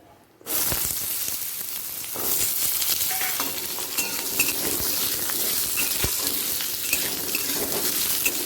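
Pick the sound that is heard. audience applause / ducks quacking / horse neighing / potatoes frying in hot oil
potatoes frying in hot oil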